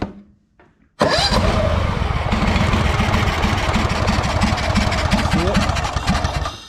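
A Honda GXV 610 engine on a Honda 4118 mower with a spitting, sputtering fault starts up loud and close, then runs with an uneven, pulsing rumble that surges in and out. A voice briefly speaks just before it fires.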